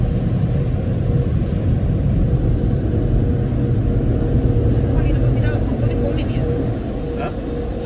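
Powerful air blowers roar inside an automatic car wash while drying a car, producing a loud, steady rushing rumble that runs throughout. Voices speak faintly beneath the noise.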